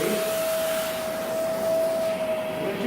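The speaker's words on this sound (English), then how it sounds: "I have a vacuum and a spray jet" Upholstery extraction vacuum with spray jet rinsing the back of fabric, a steady loud whooshing suction and hiss with a constant whine, close and unbroken.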